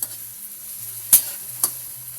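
A child stirs food frying in a pan, with a steady low sizzle under two sharp scraping clinks of a utensil against the pan, close and fairly loud.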